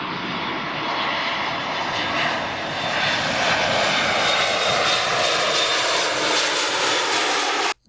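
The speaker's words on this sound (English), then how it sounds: "Here goes our plane" Airplane engine playing from a recorded clip, a loud, continuous broadband roar with a faint high whine that holds steady throughout before cutting off abruptly at the end.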